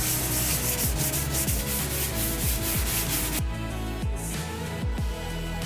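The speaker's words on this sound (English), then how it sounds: "sand the surface down to the same level as the paintwork" Filler on a rust repair on a car body is sanded down flush with the paintwork: continuous loud abrasive rubbing with regular back-and-forth strokes throughout, no voices.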